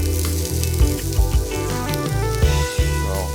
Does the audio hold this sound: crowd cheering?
no